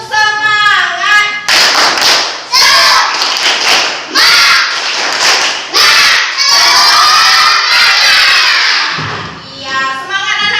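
Schoolchildren in a classroom loudly chanting and shouting in unison with bursts of rhythmic clapping, a 'tepuk semangat' cheer led by their teacher, filling the room close by.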